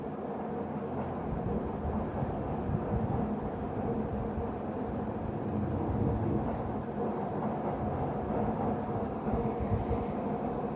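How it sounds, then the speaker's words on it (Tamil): A slow-moving train in the Indian Bike Driving 3D game rumbles with a steady low, continuous rolling noise at moderate level, with no talk over it. "ட்ரெயின் ரொம்ப ஸ்லோவாக போகுது"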